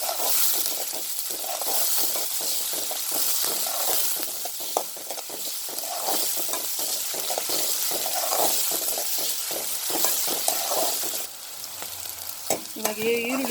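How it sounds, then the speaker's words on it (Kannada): Onions fry in a pan with a constant close sizzle, broken by repeated scraping and stirring strokes. The sizzle drops briefly near the end as the stirring continues, and no one speaks. "ಈರುಳ್ಳಿ ಸ್ವಲ್ಪ ಫ್ರೈ ಆಗಲಿ."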